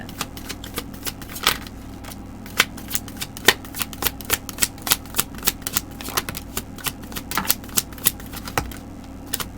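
Tarot cards are shuffled in a quiet room, giving a rapid, uneven run of crisp riffling clicks and flutters close by and alone.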